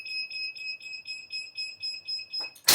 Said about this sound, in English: And you hear that beep?